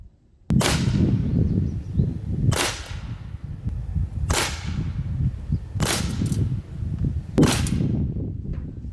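A Sig Sauer P320-X Carry .177 CO2 blowback BB pistol fires five sharp, loud cracks spaced about one and a half seconds apart, each with a short metallic slide snap and brief echo.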